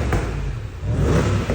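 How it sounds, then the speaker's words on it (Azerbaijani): A 2011 Range Rover with a 5.0 engine gives a brief rev, a close, loud low rumble that swells and holds for over a second with no talk over it. "Mehdi, bir dənə qaz verir zəhmət olmasa."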